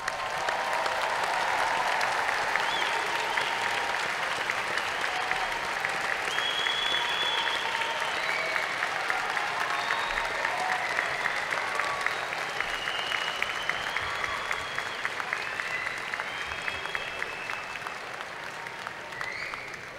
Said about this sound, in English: Let us acknowledge the accomplishments of all of these distinguished graduates with one more round of